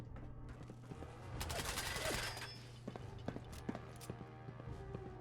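Gunfire in Fallout 4 inside a building, a burst of loud rattling shots in the middle followed by scattered sharp clicks and mechanical clatter over a steady low hum.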